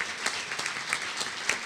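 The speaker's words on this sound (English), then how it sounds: "that's a good round of applause for a program that's really worked" Audience applause fills a conference hall, a steady dense patter of many hands clapping at moderate volume throughout, with no voices over it.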